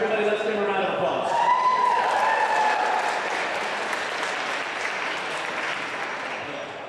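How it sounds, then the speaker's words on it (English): A live audience at a public speaking finals event gives a welcoming round of applause. The dense clapping holds steady for about seven seconds, and a voice stands out over it for a moment near the start. "let's give him a round of applause"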